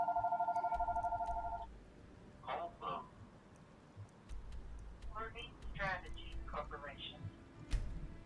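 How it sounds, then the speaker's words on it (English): A house phone rings indoors with a short, bright electronic trill at the start, then falls silent as a voice talks over quieter background sounds. "No, that was the house phone."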